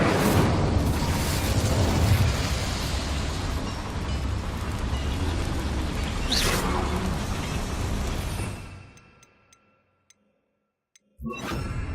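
A fire spell cast in Hogwarts Legacy, a long loud roaring burst with crackling rushes and a sharp flare midway, fading out to near silence before a brief sound returns at the end.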